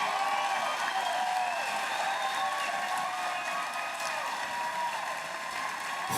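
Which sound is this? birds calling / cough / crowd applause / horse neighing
crowd applause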